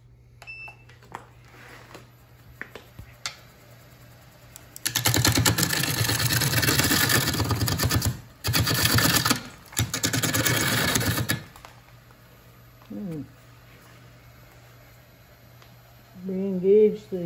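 A wood lathe turning a bowl starts up and runs as a loud, steady broadband whir for several seconds, breaks off briefly, then resumes before stopping. Quiet gaps and a few faint beeps surround it.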